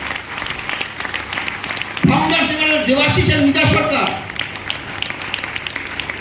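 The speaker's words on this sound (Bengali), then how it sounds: "জোরে হাততালি" Loud applause from an audience at a team-building business seminar, a dense burst of clapping lasting about two seconds that starts while someone speaks over a microphone and then fades as he continues talking.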